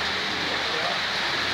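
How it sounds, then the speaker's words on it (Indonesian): Light afternoon drizzle outside a roadside coffee stall, a steady, soft, even hiss of fine rain filling the background without break. "Kondisi sore hari hujan rintik-rintik."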